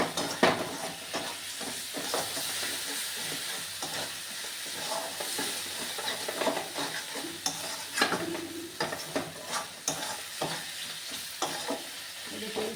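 Spice paste frying and being stirred in oil in a home kitchen pan, a steady close sizzle with repeated scraping stir strokes and occasional utensil clinks throughout.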